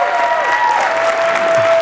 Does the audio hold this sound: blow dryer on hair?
no